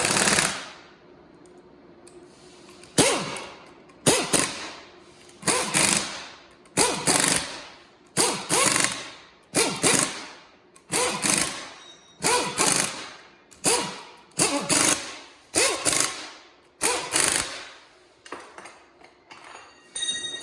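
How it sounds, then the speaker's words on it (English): A 9/16 impact wrench tightens bolts while a rebuild kit goes into a 4100 unit, firing repeated loud rattling bursts of about a second each with brief gaps between, close and alone. "after you've kind of got all your bolts tightened with an impact"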